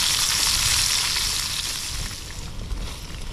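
Red onion frying in a pan at a wild camp on a windy Peak District hill, a continuous close sizzle that eases slightly toward the end, with no talking.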